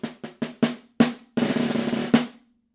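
Measure four of a snare drum etude, played with right-hand lead sticking: a run of crisp single strokes and accents, then a sustained buzz roll that lands on a final loud stroke, close and alone.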